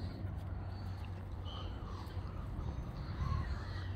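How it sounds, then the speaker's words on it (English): Seagulls calling by the water on an early morning walk, faint harsh cries drifting over a steady wash of wind and outdoor background noise. "Oh, it's full of seagulls."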